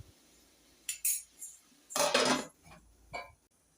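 A metal lid is set onto a pan of frying potatoes, with a few close clinks and a scraping clatter spread over a few seconds, quiet between knocks, with no talking.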